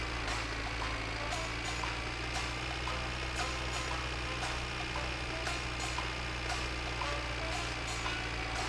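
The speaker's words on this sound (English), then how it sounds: "who's parked that shit truck in the way?" A truck engine idles in the video game My Winter Car as a steady, low rumbling drone with faint, regular ticking on top. It stays constant throughout, with no talk.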